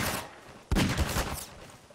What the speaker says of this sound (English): Oh crap, he's shooting at me.